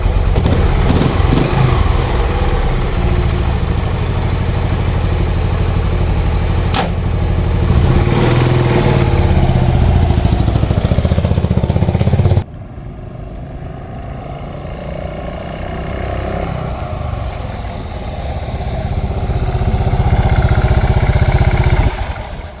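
A Buell Blast motorcycle engine runs steadily and loud throughout, with the tone shifting partway as the bike sets off on a ride and the engine pulls harder toward the end.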